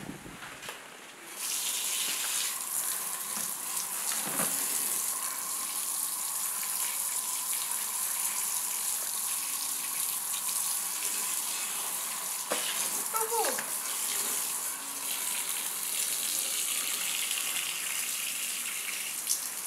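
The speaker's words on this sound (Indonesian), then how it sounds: "Saya pakai air dulu ya di ember ya." Water pours steadily from a tap into a bucket outdoors for hand-washing clothes, a constant hissing splash lasting throughout at moderate loudness, with a few faint background noises.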